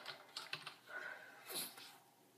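Faint, quick clicks of typing on a computer keyboard, a short irregular burst of keystrokes in a quiet room with no talking.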